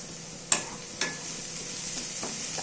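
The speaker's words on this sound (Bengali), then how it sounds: "আমাদের এখানে পেঁয়াজটা অনেকটা কুক হয়ে এসেছে" Onions cook in a pan for palak paneer, giving a soft, steady sizzle broken by a couple of sharp spatula knocks and scraping stirs.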